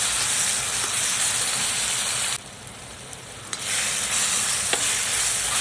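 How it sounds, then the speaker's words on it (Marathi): Green paste of ginger, garlic and coriander stirred into a hot pan, a loud continuous sizzle that drops away for about a second before resuming, with a few light spoon clicks. "त्याच्यामध्ये आपण हे हिरवं वाटण जे केलेलं आहे अद्रक, लसूण, कोथिंबीर हे याच्यात मिक्स करून घेऊया"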